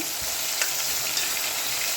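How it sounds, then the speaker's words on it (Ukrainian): Meat sizzles and crackles steadily in a hot pan, a continuous close frying hiss with occasional pops. "поки воно тут смажиться"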